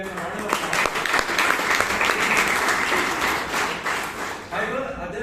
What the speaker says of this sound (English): So let them give them a round of applause.